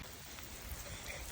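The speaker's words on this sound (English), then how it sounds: "it is downpouring rain" A heavy downpour of rain hisses steadily and densely, close by, with no other sounds.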